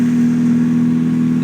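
A Toyota Corolla KE30 engine runs at a steady, smooth idle, close and continuous with no speech.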